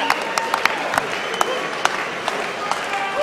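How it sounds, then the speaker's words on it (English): Crowd at an IBO world title boxing bout applauds both fighters after twelve rounds, a steady wash of clapping with sharp individual claps and shouts poking through, fairly close and sustained. "big round of applause to both fighters for a fantastic IBO world title bout."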